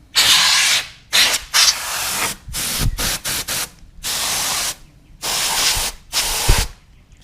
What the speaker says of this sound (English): found some computer accessory power duster, and I'm going to use it to spray the inside of the Mirage case